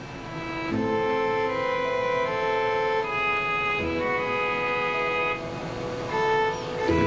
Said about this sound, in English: I got a synthesizer sound that sounds like a fiddle.